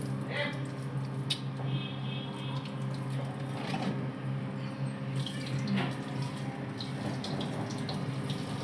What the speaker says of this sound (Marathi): आता आम्ही पाणी चेंज करतोय. हे बघा असं तांबडं पाणी काढून घेते.